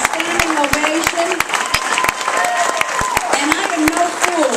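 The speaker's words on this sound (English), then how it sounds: "Let's give him a round of applause and a standing ovation." A banquet-hall audience at a Republican Party dinner gives a standing ovation: sustained, loud clapping from a large crowd, with voices cheering and calling out through it and sharp individual claps standing out up close.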